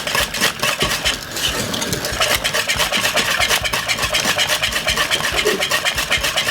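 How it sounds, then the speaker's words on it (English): A whisk scrapes and clatters steadily against a pot of Jamaican cornmeal porridge, a busy rhythmic metallic rattle that carries on without pause and with no talking. "So we're giving it that good whisk"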